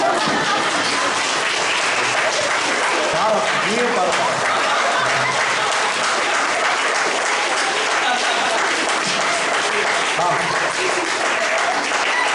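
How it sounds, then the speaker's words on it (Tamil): Steady applause from a church congregation at a Sunday service fills the whole stretch, with voices and a few laughs mixed in beneath it. "ஒரு கைத்தட்டு கூட கொடுக்க மாட்டேங்க"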